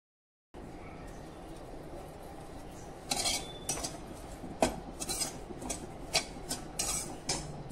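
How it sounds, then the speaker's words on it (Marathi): Desiccated coconut stirred in a pan over a low flame, with a steady dry rustle and scattered sharp clinks of a spoon against the pan that grow busier in the second half. "2 वाटी घेणार आहे डेसिकेटेड कोकोनट। हलकसा परतवून घेऊया मंद आचेवरती।"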